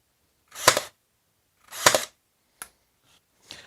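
A Ryobi AirStrike cordless nailer firing 23 gauge nails gives two sharp, loud bursts about a second apart, followed by fainter clicks, with silence between.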